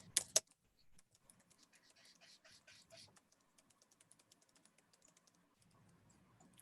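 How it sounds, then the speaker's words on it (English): Keys on a computer keyboard tap in quick irregular bursts, faint and close, with a couple of louder clacks at the start and scattered pauses between runs. "I'm typing up a chat"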